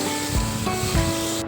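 Steady, close sizzling of onions sautéing in hot oil for tomato rice, a continuous bright hiss with a few soft stirring bumps.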